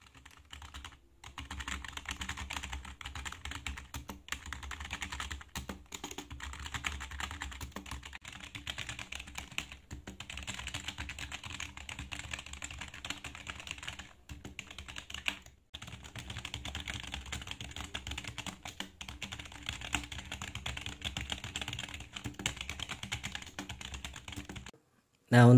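Steady typing on a Fantech K613X keyboard, a continuous run of quick, close key clicks with a few brief pauses, heard alone without talk.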